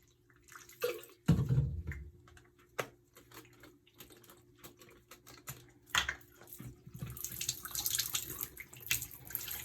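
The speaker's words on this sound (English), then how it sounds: "Do a quick rinse bath. This is just water, room temperature." Room-temperature rinse water pours into a black-and-white film developing tank through its light trap, with intermittent splashing and trickling at close range amid small clicks and handling knocks, growing louder toward the end.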